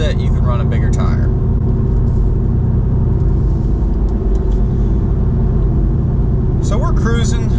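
A leveled 2018 Silverado pickup on 295/65 tires cruises at 55 mph in overdrive, giving a steady, close low road-and-engine rumble inside the cab, with someone talking at the start and end.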